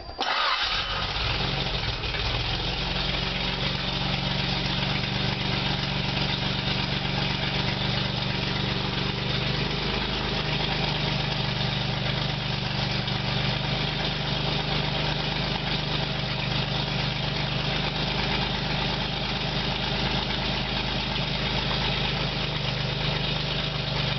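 A Maserati SM C114 engine starts and settles into a steady, low rumbling idle at about 1,000 RPM that holds evenly throughout, close and continuous with no voices.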